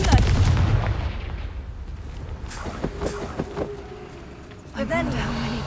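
The Confringo blasting spell in Hogwarts Legacy goes off as a deep booming burst at the start, followed by crackling impacts and scattered game sounds. A voice speaks in the clip.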